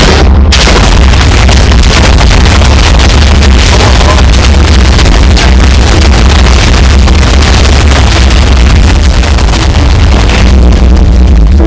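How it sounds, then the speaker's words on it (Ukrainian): Explosions in a video game: a loud, dense roaring blast that bursts in after a brief moment and rumbles on without letup for the rest of the stretch, with no voices heard. "Я підірвав тут все нафіг."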